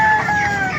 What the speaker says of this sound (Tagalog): Nakita natin manok dito.